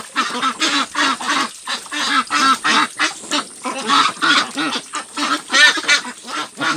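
Peking Star ducks being fed fruit honk and quack loudly and repeatedly at close range, their nasal calls coming in quick overlapping bursts with no talk over them.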